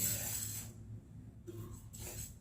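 Sesame seeds poured into a dry pan over a gas flame for roasting, giving a soft rasping, rustling scatter that comes in short bursts against a steady low background hum, no voices.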